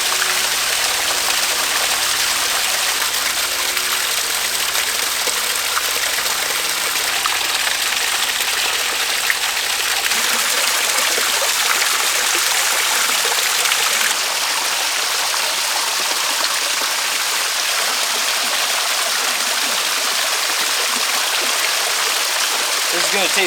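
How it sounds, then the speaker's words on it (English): Spring water pours out of a canyon wall at a backcountry spring in the Grand Canyon, a steady broadband gushing and splashing that stays loud and close for the whole stretch. "This pours right out of the canyon wall."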